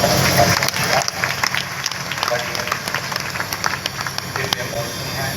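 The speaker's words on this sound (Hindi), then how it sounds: "बल जोरदार तालियों का" A crowd applauds at a Shiv Mahapuran katha gathering in Kashi, welcoming a priest of the Kashi Vishwanath temple. The applause is dense and continuous, loud and close, with voices mixed in underneath throughout.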